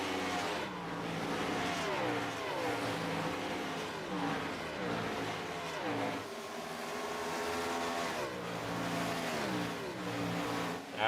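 Stock race cars, including Ford Fusions and a Ford Taurus, racing at the Kansas track, with continuous loud engine drone and rising and falling revs as cars accelerate and shift through the pack.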